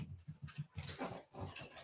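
A pet dog whines and whimpers indoors in quick, uneven bursts, close to the microphone and fairly quiet, with no talking.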